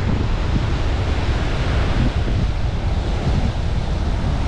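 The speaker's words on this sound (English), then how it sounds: "the water is so rough today." Rough sea crashes against a cliff on Saipan, a dense, continuous roar of surf mixed with heavy wind buffeting the microphone, loud and unbroken throughout.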